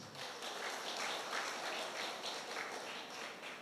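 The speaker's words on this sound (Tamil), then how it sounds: "பெற்றோர்கள் மட்டும் கைத்தட்டுங்கள்" A hall full of parents applauds at a Tamil speech gathering, a dense, sustained wash of many hands clapping together that swells and holds without speech over it.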